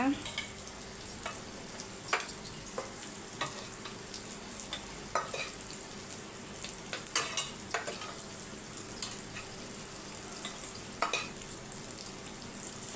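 Elephant foot yam (karunaikizhangu) frying in a pan, a continuous soft sizzle broken by repeated clinks and scrapes of stirring, fairly quiet, with no talk.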